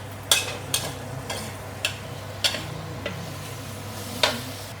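Ginger and pork stir-fry in sesame oil over low heat, a soft steady sizzle punctuated by regular sharp scrapes and taps of a spatula against the wok.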